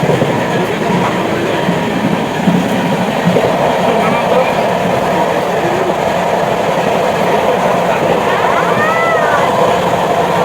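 A passenger train bound for Puri rumbles along from inside a carriage, a loud steady roar with faint rhythmic clatter of the wheels running throughout, while people talk quietly in the background.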